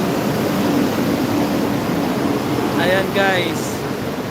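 Big flood waves surge through the streets of Nabua, Camarines Sur, near a covered court, a steady broadband wash of rushing water throughout while a person talks briefly over it.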